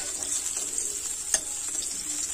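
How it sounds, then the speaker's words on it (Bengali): Chopped onions stirred and lightly fried in a pan for a Bengali fish curry, a continuous close hiss of sizzling broken by a few soft scraping stirs and one sharper tap, with no voices. "পেঁয়াজ কুচি দিয়ে দেব, পেঁয়াজ নাড়াচাড়া করে ভেজে নিতে হবে।"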